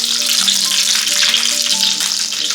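Hot green chillies crackle in oil with mustard seeds and cumin over a low flame, making a loud, continuous, close frying hiss that runs unbroken with faint steady tones behind it.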